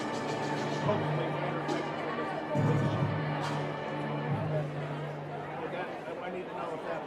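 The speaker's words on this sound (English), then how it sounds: "the crowd is louder than our voice" Crowd chatter and cheering surround a wrestling meet in a gym, a continuous babble of many voices with a few louder swells and whistle-like tones rising briefly above the hum.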